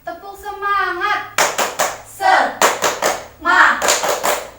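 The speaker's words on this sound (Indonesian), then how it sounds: "Mari kita tepuk semangat ya bapak-bapak, ibu-ibu." A group of men and women claps a patterned rhythmic cheer in bursts of quick hand claps, loud and close, at a training session in Yogyakarta; a voice leads before the claps begin and voices call out between them.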